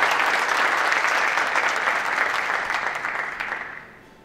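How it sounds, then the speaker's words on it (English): Audience applause at a 3-cushion billiards World Cup match in Ankara, a steady wash of clapping from the crowd that holds for several seconds and then fades away near the end. "I think the applause was for Michael Nilsson."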